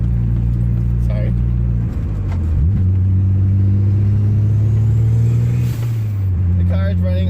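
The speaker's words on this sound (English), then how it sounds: "The car is running on a 1G crush blow-off valve" A Mitsubishi Eclipse fitted with a 1G blow-off valve and black box ECU idles and revs nearby, a steady low engine rumble rising and settling, with a brief blow-off hiss near the end.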